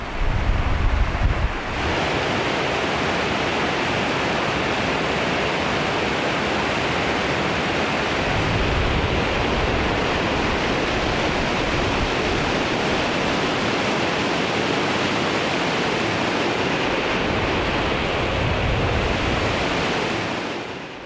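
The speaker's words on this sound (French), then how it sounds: "avec le grondement du torrent qui nous a accompagnés tout au long de la journée" Mountain torrent in Nepal roaring steadily, a loud, broad and unbroken rush of water that carries on for the whole stretch with no pauses.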